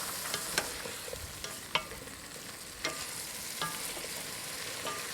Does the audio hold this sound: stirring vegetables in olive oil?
yes